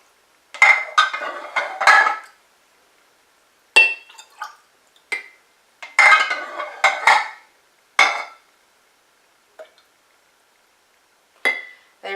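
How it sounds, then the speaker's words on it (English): Clean glass jars are handled while being filled with homemade elderberry syrup made from dried berries. Crisp glassy clinks and clatters come in quick bursts, separated by quiet pauses, with no talking. "So these are clean jars. All right, so I will just fill up these jars."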